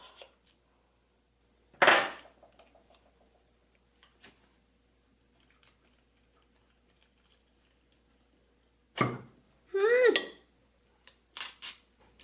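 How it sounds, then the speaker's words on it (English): Blade being pulled out of a NutriChopper food chopper: a few sharp plastic clicks and clatters scattered through a mostly quiet stretch, close by, with a short scraping rattle near the end. "Just going to take the blade out."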